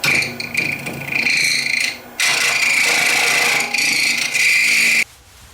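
Wood spinning on a lathe at about 1600 RPM while a cutting tool scrapes it during custom finial turning, a steady bright hiss that breaks off briefly, resumes, then stops near the end.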